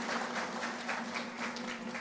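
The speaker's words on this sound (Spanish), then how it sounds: "Un fuerte aplauso para sus hermanos." Audience applause at a Christian family movement gathering: a brief, even stretch of many hands clapping at moderate volume, with a steady low hum underneath.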